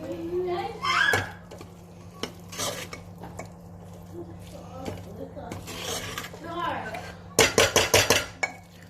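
Broccoli and peas stirred with spices in a pan, with repeated scraping and clinking of a utensil against the metal under a faint sizzle, then a quick burst of sharp knocks near the end, close by, while someone talks.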